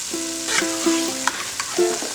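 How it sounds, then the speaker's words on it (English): Tomato paste is stirred into cooked beef in a frying pan; the spoon scrapes softly against the pan in short strokes over a faint sizzle, with a few brief tonal squeaks, and nobody speaks. "add the tomato paste and stir it around in."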